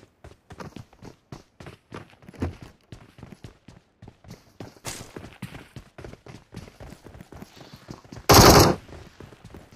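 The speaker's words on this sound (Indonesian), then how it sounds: "Kita ada tembakan juga loh." Gunfire in the PUBG battle royale video game comes as a rapid stream of sharp shots with footstep-like patter, punctuated by one loud, dense burst near the end.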